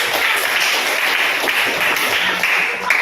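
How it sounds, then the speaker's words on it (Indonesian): A classroom group of students claps for group 5 after their presentation, a steady dense patter of hands lasting about three seconds with faint voices underneath. "Oke, tepuk tangan untuk kelompok"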